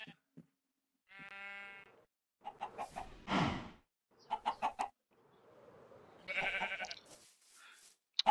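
Video-game chickens cluck and squawk in short, separate bursts over near silence, the animal noises repeating at intervals through the stretch.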